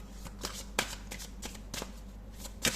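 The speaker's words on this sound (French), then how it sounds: "Alors moi je vais tirer d'autres cartes." Tarot cards being shuffled and drawn by hand, a quick run of soft riffling bursts and flicks in an uneven rhythm, heard close over a faint low hum.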